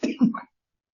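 Two short, harsh coughs in quick succession, close and fairly loud, followed by silence.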